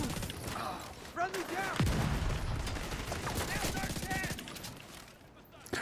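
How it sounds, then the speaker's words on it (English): Repeated mortar and gunfire blasts ring out in a video game, loud and continuous, with a voice talking over the shooting. "The mortars got bigger."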